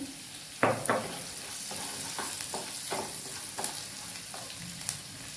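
Onions frying in a pan give a steady, fairly quiet sizzle, broken by a few sharper scrapes of a stirring spoon, heard up close with no voices.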